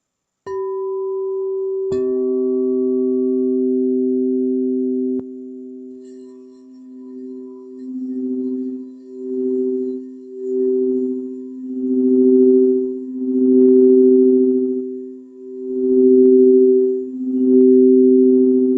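Steady pure tones in a sound therapy session hold for several seconds, then settle into a slow, throbbing pulse like a binaural beat that swells and fades rhythmically, loud and alone.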